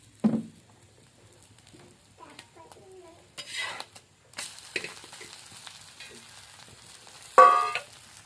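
Egg bhurji frying in a little oil in a kadai, with soft intermittent sizzling and stirring scrapes, a few louder clatters of a utensil against the pan, mostly faint and sparse.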